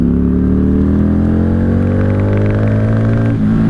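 A 1995 Honda Shadow VLX 600 (VT600CD) motorcycle engine at full throttle in fourth gear, a loud, close, steady roar climbing in pitch, then a sudden drop as the gear changes near the end.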